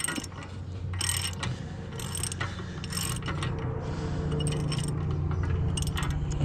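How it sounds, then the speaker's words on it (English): Ratchet wrench clicking steadily while loosening a nut on the steering inner track rod of a 2000–2007 Volvo V70, close and continuous with bursts of bright metallic clatter over a low mechanical rumble. "I'm gonna need a ratchet here."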